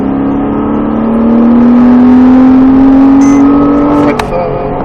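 A Porsche Cayman S accelerates hard on the Trappes race track in France, its engine note climbing steadily in pitch for several seconds, loud and close from inside the car, before easing off near the end.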